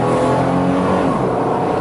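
A Pontiac Firebird engine revs hard and climbs in pitch, briefly dips as it shifts gear, then keeps pulling, loud and close.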